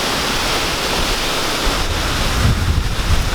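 Bang Pae Waterfall in Phuket, Thailand, pours in a steady, dense rush of falling water, close and loud, with wind buffeting the microphone toward the end.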